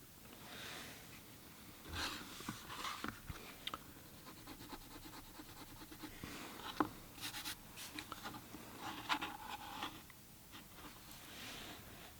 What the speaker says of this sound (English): We'll just get a light pencil line for our center